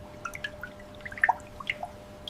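Condensed water droplets dripping inside an air-to-water drinking water factory, a dozen or so small distinct plinks at irregular intervals over a faint steady hum.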